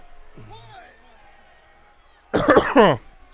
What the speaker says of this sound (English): I'm coughing up a storm